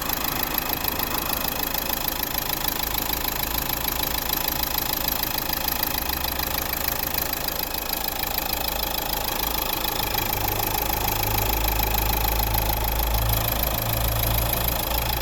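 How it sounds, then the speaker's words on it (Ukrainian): A 2011 Dacia Duster's 1.5 dCi diesel engine idles throughout, a constant low rumble with a faint ticking texture, close and even with no revving. "Прекрасна робота двигуна"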